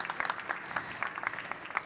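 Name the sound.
audience applause for speakers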